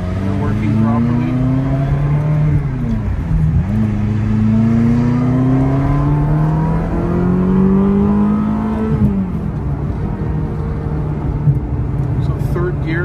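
A 1998 Ferrari F355 GTS engine pulling hard while driving, its loud, steady drone rising in pitch through the gear, dipping briefly at each shift and then climbing again. The roar stays close and continuous throughout.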